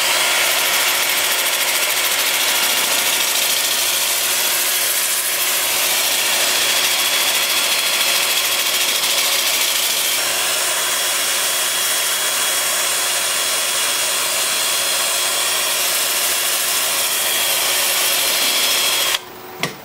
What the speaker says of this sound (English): with the lathe spinning in reverse at 400 RPM